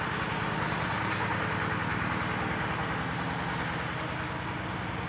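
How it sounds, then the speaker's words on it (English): Construction machinery drills deep holes at a busy building site in Da Nang's tourist area, producing a loud, steady, low engine rumble with a rhythmic pulsing throughout and no voices. "They're drilling deep holes."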